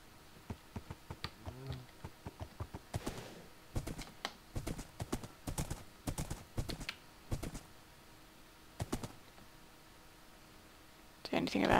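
Horse hooves clip-clop in a Minecraft-style modded survival game, a steady run of sharp, evenly spaced hoofbeats that stays fairly close, with someone talking over part of it.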